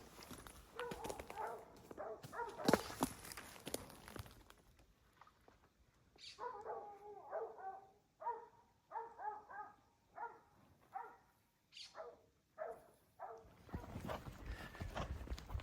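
Working dogs barking while holding bulls in thick brush, a series of sharp barks in rhythmic bursts, moderately distant, with rustling around them and no talk.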